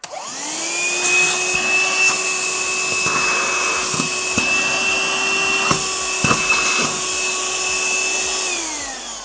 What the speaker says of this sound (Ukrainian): Працює пилосос доволі тихо е, і в той час же е, доволі потужно.